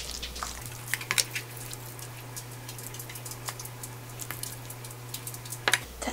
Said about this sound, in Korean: 아니면 후라이팬에다가 기름 없이 이렇게 구우시면 되고요.